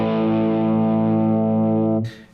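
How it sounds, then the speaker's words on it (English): Electric guitar through a True North Tweed Drive overdrive pedal with its gain turned up, one sustained distorted chord ringing fat and steady for about two seconds before cutting off with a brief scrape of string noise. "We're going to pull the gain control up."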